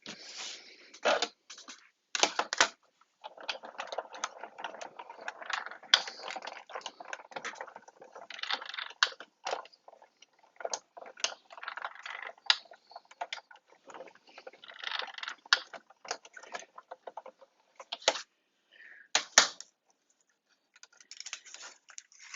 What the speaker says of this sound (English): I pop over to my die cutter.